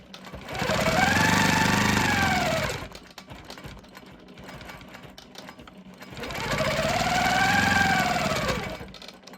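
A quilting sewing machine stitches straight lines through bat-print fabric in two sustained whirring runs, each rising and then fading, separated by a quieter pause.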